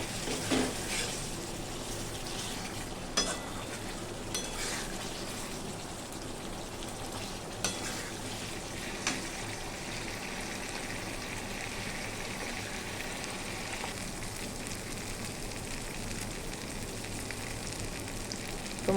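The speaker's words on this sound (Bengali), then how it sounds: "মশলাটার সঙ্গে আলুটা খুব সুন্দরভাবে কষানো হয়ে গেছে" Potatoes fry in a spiced masala with paneer, a steady dense sizzle running unbroken and fairly loud throughout, with a few soft stirring knocks and no voices.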